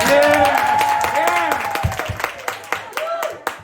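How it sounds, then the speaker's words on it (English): Improv theatre crowd clapping and cheering to vote for a suggestion, scattered claps mixed with voices and shouts, thinning into a few separate claps by the end. "Clap your hands."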